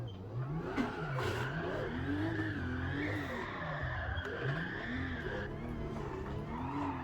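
Video game car drifting in Gran Turismo 7, with an engine revving and falling in waves under a sustained high tire squeal, steady and close throughout.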